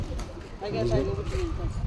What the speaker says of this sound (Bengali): আর এর মধ্যে কয়টা পায়রা ছেড়ে রেখেছি